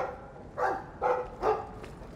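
A dog in the video game Dragon Age 2 barks three times in a quick, evenly spaced run, each bark close and clear over a quiet background.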